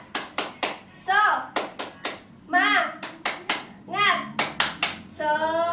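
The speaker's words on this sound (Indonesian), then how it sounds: "Kita tepuk semangat." A school class claps out a rhythmic chant in short bursts of sharp, evenly spaced claps, alternating with children's voices shouting the chant words together between the clap groups, close and lively.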